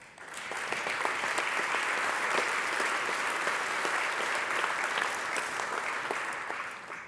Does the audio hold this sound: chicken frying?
no